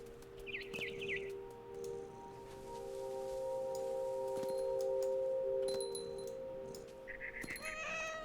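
A cat in What Remains of Edith Finch gives a long, drawn-out meow, with short bird chirps at the start and end and a steady low musical drone underneath.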